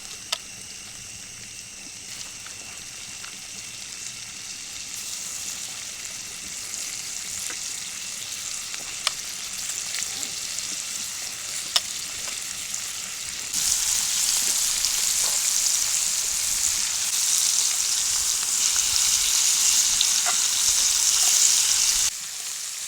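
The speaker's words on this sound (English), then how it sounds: "The texture of the chicken sizzling on the pan, over the wood fire by the riverside, looked perfect." Marinated chicken pieces pan-fry in butter on a hot cast iron pan over a wood fire by a riverside, a steady loud sizzle and crackle throughout that intensifies partway through, with occasional pops and no talk.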